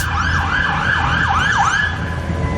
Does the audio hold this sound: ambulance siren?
yes